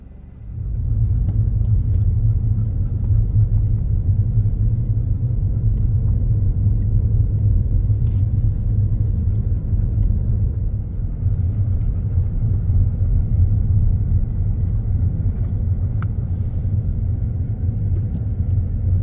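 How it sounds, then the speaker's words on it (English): Inside a vehicle driving along a winding mountain road near High Knob, a loud, steady low engine and road rumble that carries on throughout with no talk. "we are still in the vehicle, headed around the mountain here. We're on this little mountain road"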